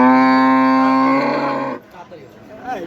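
A bull at a cattle market gives one long, loud, drawn-out low moo close by, followed by quieter rustling and shuffling sounds.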